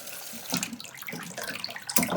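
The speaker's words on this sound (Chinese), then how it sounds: "我们现在把这个杂质呢给它冲掉。 现在我们冲水" Tap water runs over raw pork ribs being rinsed of impurities for sweet and sour ribs, a close splashing gush with uneven surges and a sharper splash near the end.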